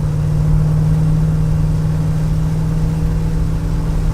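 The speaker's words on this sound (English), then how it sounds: "This is your typical American car. Big, bulky, and noisy." A classic Chevy American car engine rumbles steadily up close, a loud low drone with a constant hum and no voices over it.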